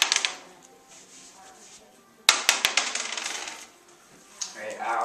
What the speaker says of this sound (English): in order to decide who goes first, we roll a dice